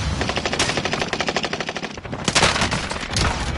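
Rapid automatic gunfire from the video game Call of Duty Warzone rattles in close, loud bursts, pauses briefly, then resumes with heavier shots.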